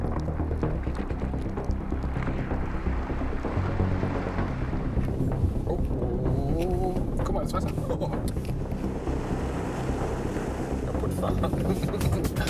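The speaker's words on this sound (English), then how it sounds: "Driving into a pretty big ice puddle." Mercedes-Benz G-Class driving into a big puddle on ice, with a rumbling engine, water sloshing and splashing, and a loud wash throughout, while people talk over it.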